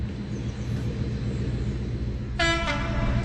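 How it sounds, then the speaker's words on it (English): A Class 56 locomotive rumbles up to Shawford Station with a heavy, loud, steady engine drone, then its horn sounds in a sharp blast near the end. "It's a Class 56 and it's due through here in a moment."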